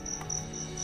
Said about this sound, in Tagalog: kung naririnig niyo yung maingay na kuliglig o cricket, natural po yun